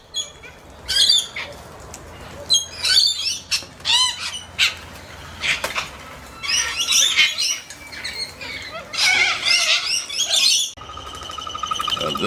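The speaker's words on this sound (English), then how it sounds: "This is the long-billed Corella." Long-billed corellas squawk harshly and repeatedly, a loud, raucous flock calling in bursts throughout, with some chirps and wing flaps among birds gathered at a feeding spot.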